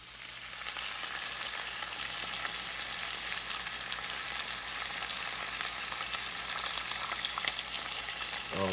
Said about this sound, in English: Oh, listen to that bacon sizzle, YouTube.